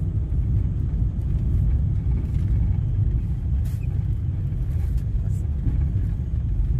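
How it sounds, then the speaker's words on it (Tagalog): Heavy street traffic in Kuwait, a steady dense rumble of many passing cars close by, with a faint brake hiss now and then, constant throughout. "Ito guys, ang daming mga sasakyan guys. Maraming sasakyan guys."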